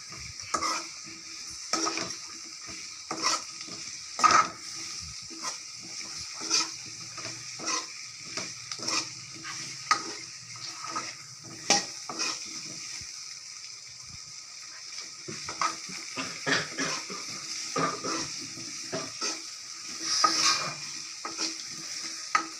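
A paste mixed with chili powder is stirred and fried in a pan, with repeated scraping strokes of a utensil against the pan over a quiet sizzle, steady and close throughout.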